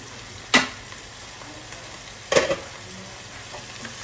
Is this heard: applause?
no